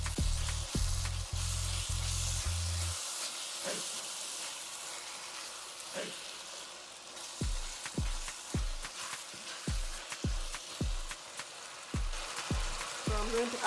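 Food frying in a pan with green seasoning added, a steady close sizzle punctuated by repeated soft knocks and taps of stirring, with no voices heard.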